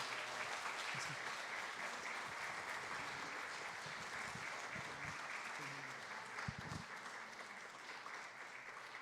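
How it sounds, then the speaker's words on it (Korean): A church congregation applauds after an infant baptism during a Sunday worship service, steady dense clapping filling the room for several seconds and easing slightly toward the end. "큰 박수로 축하해 주겠습니다"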